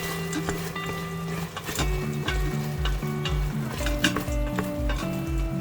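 Wild boar curry stirred in a pressure cooker pot, with a steady sizzle under repeated scraping and clinking strokes of a utensil against the metal pot, close and fairly loud throughout.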